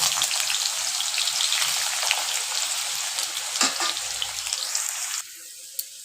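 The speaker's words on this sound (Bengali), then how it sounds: "এইবার মূলোগুলো ফ্রাই করে নেব।" Radish pieces frying in hot oil, a dense steady sizzle with crackling pops and a brief stir, close and loud, cutting off suddenly near the end to quieter background.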